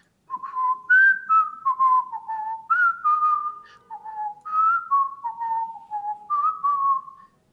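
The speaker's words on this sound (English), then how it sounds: "Can you whistle it one more time?" A single person whistles a bright, wavering melody from an old commercial, phrase after phrase in a steady lilting rhythm, close and clear with no talk over it.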